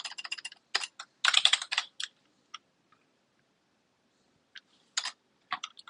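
Quick bursts of typing on a computer keyboard, close and crisp, in rapid clusters separated by a pause of near silence before a few final keystrokes.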